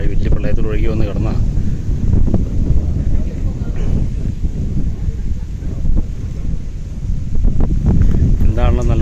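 Cold wind blows through the Periyar tiger reserve forest as a steady, loud broadband rush with gusty microphone buffeting throughout, and muffled voices sit faintly underneath.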